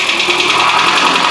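A car engine with piston slap runs with a rapid, harsh mechanical knocking clatter, loud and close, steady throughout a short burst with no talking.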